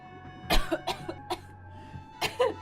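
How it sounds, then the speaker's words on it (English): Several harsh coughs in quick bursts, a cluster early on and another pair near the end, close and fairly loud against a faint steady hum. "See what you done to me, I'm coughing."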